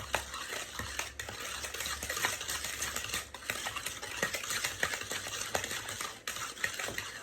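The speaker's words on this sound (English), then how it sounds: "So I'm going to use my Danish whisk." Carrot cake batter being mixed by hand with a Danish whisk in a bowl, a close, busy run of rapid scraping and clicking strokes that carries on steadily throughout.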